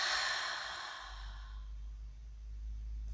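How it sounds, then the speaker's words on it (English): A single slow, deep breath is let out during a guided mindfulness exercise, a soft airy exhale that fades into quiet low rumble. "take a deep, mindful breath in and out"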